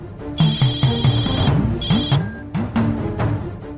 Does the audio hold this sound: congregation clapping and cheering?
no